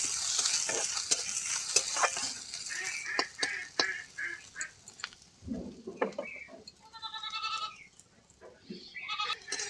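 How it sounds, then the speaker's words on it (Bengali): Chopped ginger and garlic fry in mustard oil, giving a low, steady sizzle broken by repeated clinks and scrapes of a stirring spoon against the pan. "আদা রসুন কুচি ভালো করে ভেজে নিয়েছি।"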